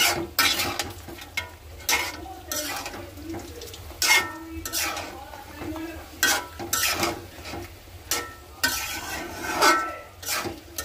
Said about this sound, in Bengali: এই যে মুরগির মাংস কষাই নিতেছি